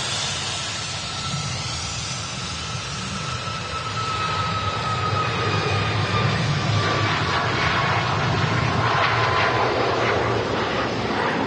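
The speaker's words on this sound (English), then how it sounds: "Making the early exit there, the Jet2 757 head on here at the Runway Visitor Park, Manchester Airport" A Jet2 Boeing 757 roars steadily on the runway at Manchester Airport, its engine noise loud and continuous with a rising whine building as the aircraft draws nearer.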